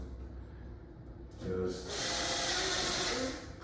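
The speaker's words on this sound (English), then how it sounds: "going to use my screw gun, very vigilant and careful, because these will squish" A screw gun drives screws into the plastic parts of a ceiling fan being assembled. After a quiet lead-in, a close whirring burst starts and runs steadily for about two seconds before easing off.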